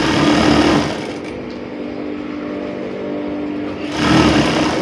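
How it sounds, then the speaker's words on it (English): A sewing machine runs steadily, stitching the seam of a rose ruffle sleeve on crinoline, with a continuous motor whir that swells louder at the start and end. "So you can see me sewing it straight down."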